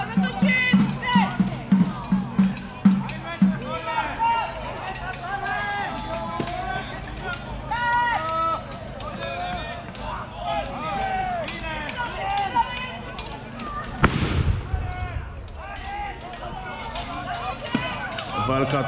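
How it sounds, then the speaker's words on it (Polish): Cannon fire at a reenactment of the Battle of Wojnicz: one heavy, sharp boom late in the stretch, rising over a constant roar of crowd noise, shouting and voices on the battlefield. "Artyleria cały czas bije."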